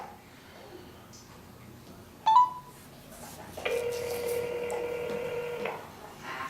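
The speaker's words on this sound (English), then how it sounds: "Try to call this guy again." A phone dials out to place a call: a short sharp beep, then a steady electronic ringing tone lasting about two seconds, faint and with no talking.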